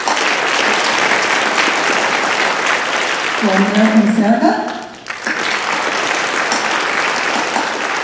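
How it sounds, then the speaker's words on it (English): A concert audience at a Gold Coast Band performance gives sustained applause for the vocalists, a broad steady roar of clapping that continues while someone briefly speaks over it. "Let's have another round of applause first for our vocalist"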